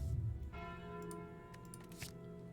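The Calling Bell relic in the video game Slay the Spire rings out as a single resonant bell chime with a sustained tonal ring, quiet and clean, with faint ticking accents and no speech.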